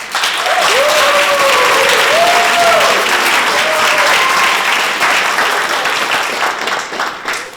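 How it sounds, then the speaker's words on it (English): Sustained applause from a school audience celebrating spoken word performers, loud and continuous for several seconds with a few faint voices audible through the clapping before it begins to thin out. "Another round of applause for all of our performers here this morning and this afternoon"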